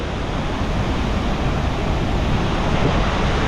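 At the Devil's Throat of Iguazu Falls, the huge waterfall gives off a loud, close, unbroken roar of crashing water, with spray hitting the camera.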